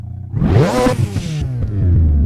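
A car engine with no flywheel revs hard and fast in a racing video game, one sharp rising roar that climbs and then holds at a loud, steady drone, close and alone.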